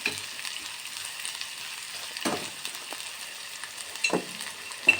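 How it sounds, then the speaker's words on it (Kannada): Onions sizzling in oil in a pan for the potato filling of hotel-style masala dosa, a steady soft frying hiss with a few sharp stirring scrapes, heard alone. "ಈರುಳ್ಳಿ ಎಣ್ಣೆ ಮತ್ತು ಹಾಕ್ಬಿಟ್ಟು ಚೆನ್ನಾಗಿ ಫ್ರೈ ಮಾಡ್ತಾಯಿದ್ದೀನಿ"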